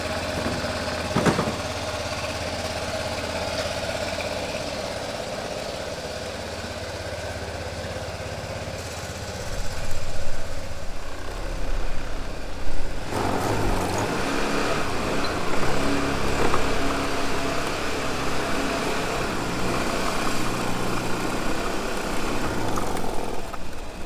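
A car engine running from a long-stored collection, idling steadily nearby with a low rumble that grows rougher and louder about halfway through, then keeps churning on.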